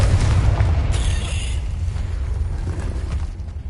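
A Confringo blasting spell from Hogwarts Legacy lands as a loud, deep boom. A low rumble persists and slowly fades across the moment, with a brief bright crackle near the start.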